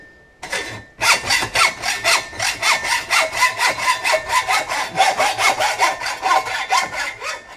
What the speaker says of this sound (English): just use a hacksaw, and you can cut it off much closer to the fitting, like this, and have very little waste